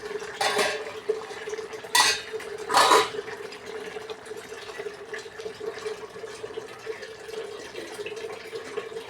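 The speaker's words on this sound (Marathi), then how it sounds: "5 मिनिटं झाले, आपण आता झाकण काढून बघू" A metal pot lid comes off a pot of vegetable pulao in a home kitchen, with several clanking metal knocks in the first few seconds followed by a low hum and faint quiet clatter.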